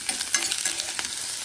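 Ginger, whole green chilies and capsicum fry in hot oil and are stirred, a brief close sizzle broken by quick scraping clicks of the spoon, with no voices.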